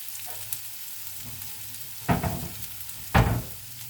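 Onions frying gently over low heat in a covered pan, a soft steady sizzle broken by two louder bursts of crackling a second apart.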